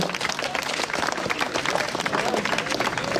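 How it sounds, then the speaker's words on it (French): Crowd applause at a horse show at the Beau Marché in Toucy, honouring an Auxois horse breeder: dense, steady clapping from many spectators throughout, loud and continuous with some crowd murmur mixed in. "Applaudissements pour la maison Guillolot"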